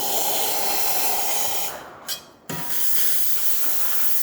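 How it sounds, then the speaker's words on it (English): The steam wand of an Alex Duetto espresso machine hisses loudly and steadily after a full tune-up. It cuts out briefly partway through, then resumes at full force. "Nice strong steam."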